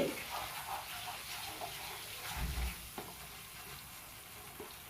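A thick mixture is stirred continuously in a pan as it cooks down and dries, giving a steady soft sizzle with scraping strokes throughout and a slightly louder bump near the middle.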